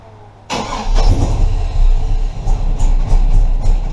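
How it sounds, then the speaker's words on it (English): A car engine fitted with a Holley Terminator X fuel injection system cranks and catches after half a second, then idles roughly and loudly with a deep uneven rumble and small surges. "I'm gonna go ahead and show you mine starting up now."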